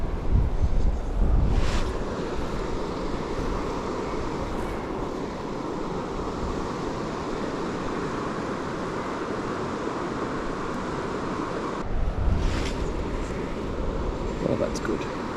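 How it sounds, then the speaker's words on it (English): Wind gusting across the microphone beside a high country river, a steady low roaring rush lasting throughout, with stronger buffeting bursts at the start and again near the end, while someone talks. "Just wait for that wind to go."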